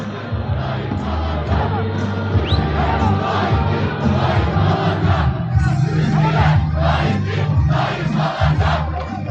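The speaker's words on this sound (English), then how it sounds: "That was a pretty big crowd." A large crowd roars and chants at a Turkish election rally, a dense, steady wall of voices and cheering with rhythmic surges, close and loud throughout.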